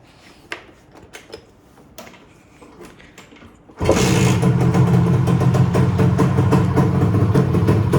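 After a few quiet clicks, a Modenas Dinamik 120 motorcycle engine fires up abruptly and settles into a loud, close, steady idle with an even mechanical chatter.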